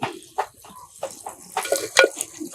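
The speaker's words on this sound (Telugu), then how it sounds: "ఇప్పుడు వాటర్ యాడ్ చేసుకుంటున్నాం." Water is poured into a clay pot of country chicken curry, with splashes and clinks of utensils in short bursts, fairly quiet and close.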